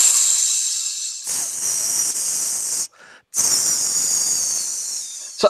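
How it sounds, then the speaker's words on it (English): A loud sizzling sound effect plays as a steady bright hiss, cutting out briefly near the middle before returning at full strength, with no voices over it. "It's sizzling, baby."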